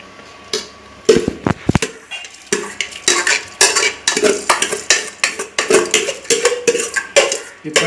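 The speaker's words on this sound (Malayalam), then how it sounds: "ഇനി നമ്മൾ സോക്ക് ചെയ്ത് വെച്ച അരി ഇതിലേക്ക് ഇടാൻ പോകുന്നു" Soaked rice tipped into a biryani pot with salt already added, giving a run of close, rhythmic clatters and scrapes of metal utensils against the pot, with no talking.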